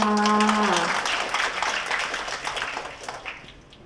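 A crowd applauds at a Thai engagement ceremony in a hotel ballroom. The dense, steady clapping begins right after a voice trails off, holds for several seconds, then thins and fades toward the end.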